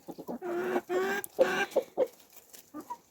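Chickens cluck and squawk nearby in a string of short, nasal calls, with one drawn-out call and a few softer clucks trailing off.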